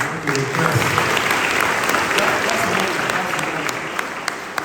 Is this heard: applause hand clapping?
yes